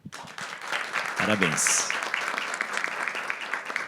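Audience applause for school directors at an education event, a steady mid-level clapping wash under a speaker's brief spoken congratulations, with a short burst of cheering near the start.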